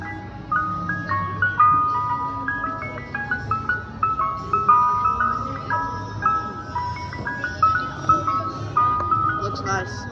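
An ice cream truck jingle plays at a Mister Softee shop in North Wildwood, New Jersey. Its bright, chiming melody repeats clearly over a low background rumble.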